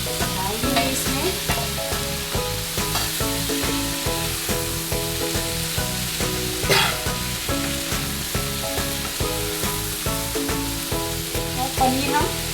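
Mixed vegetables for a restaurant-style curry sizzle and crackle in a hot pan, with a steady frying hiss punctuated by regular scraping stirs, close and continuous without any talking.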